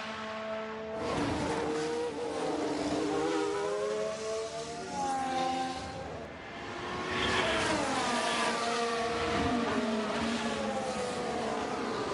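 A Williams Formula 1 car from the F1 Manager 23 racing game drives past, a high whining engine note with pitch sweeping up and down over several gear changes, and other cars' engines drone nearby.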